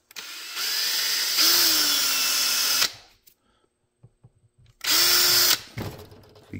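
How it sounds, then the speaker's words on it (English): A power drill whines loudly in two bursts drilling into a guitar headstock, the first long and rising in pitch, separated by a quiet pause with faint clicks. "I'm just going to drill these two in."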